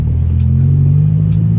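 A lowered car's engine idles nearby with a deep, steady low rumble, loud and even for a brief moment with no voices.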